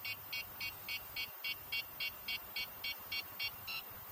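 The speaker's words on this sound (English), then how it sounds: "Once it stops beeping, you're ready to fly" A WLtoys V686G FPV quadcopter's handheld controller beeps in a steady, regular series of about fourteen short, evenly spaced electronic tones over a quiet indoor background.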